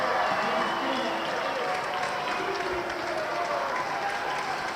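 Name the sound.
crowd applauding at indoor cricket match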